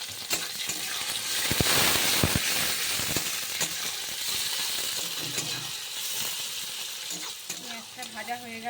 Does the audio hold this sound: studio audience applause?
no